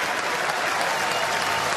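A ballpark crowd applauds steadily as a baseball batter walks back to the dugout after striking out, a soft, even wash of clapping from a distance.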